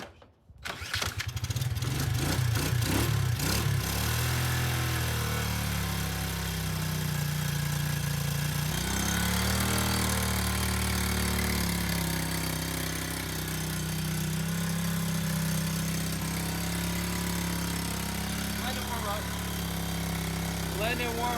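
A cheap $50 quad's engine cranks and catches, then settles into a loud, steady idle that runs on without letup, with a few spoken voices over it.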